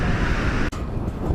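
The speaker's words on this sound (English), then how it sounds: "It's so windy and so cold" Strong, cold wind in Iceland roars loudly and continuously against the microphone, a dense rumbling buffet broken only by a split-second dropout.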